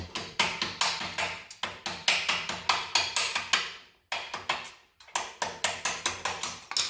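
Rapid, regular hammer blows ring out on metal at a forge, close and loud, with two brief pauses between the runs of strikes.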